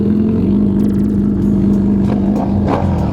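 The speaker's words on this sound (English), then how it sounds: "Dude, that bike sounds ridiculous." A loud naked motorcycle engine revs hard nearby, with a steady droning idle rising into sharp throttle blips and bursts of clattering mechanical noise.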